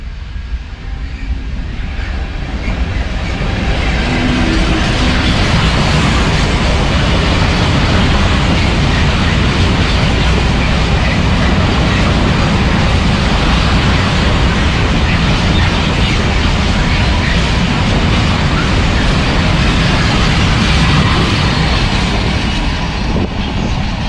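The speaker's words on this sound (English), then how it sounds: "It's a freight train." A freight train rolls past a level crossing with the barriers down, a loud, steady roar of wheels and wagons rumbling close by without letup, a dense continuous wash of noise.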